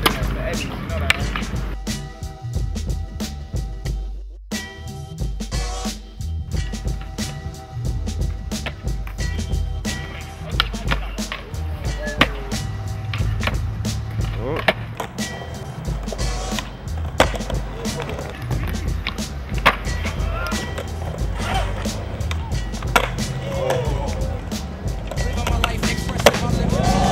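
Skateboarding at a Central Valley contest in Selma: repeated wheel roll, board pops and hard wooden landing clacks throughout, with crowd chatter and talking mixed in.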